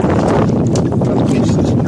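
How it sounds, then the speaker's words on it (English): Strong wind buffets the microphone on Kentucky's Barren River Lake while canoeing, giving a loud, constant roaring rumble with gusty surges throughout. "that wind is kind of causing me a little bit of problems right now"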